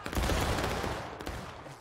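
A musket volley from a platoon in the War of Rights video game, a loud ragged crash of many shots that rolls on and fades over about two seconds.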